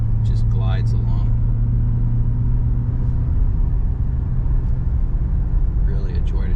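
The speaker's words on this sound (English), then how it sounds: "everything just drives nice, transmission shifts nice, it's got good power, just glides along" A 1989 Lincoln Mark VII LSC with the 5.0 HO V8 cruises along, a steady, loud interior engine and road rumble running throughout, with a voice talking over the drive.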